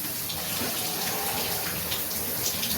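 Water runs steadily into a bathtub, a continuous broadband rush with a faint splashing texture, close and even throughout with no talking.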